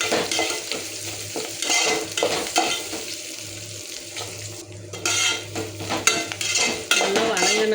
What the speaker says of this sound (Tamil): அப்புறமா பூண்டு, கொஞ்சமாக கருவேப்பிலை போட்டுட்டு நல்லா மிக்ஸ் பண்ணிக்கோங்க.